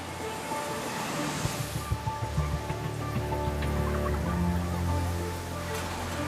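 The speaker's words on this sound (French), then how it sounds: "les chauffeurs de taxi affrontent une pluie torrentielle" Torrential rain pouring down on flooded New Delhi streets, a steady dense hiss with scattered drop impacts and a low rumbling wash underneath, continuous throughout with no voices.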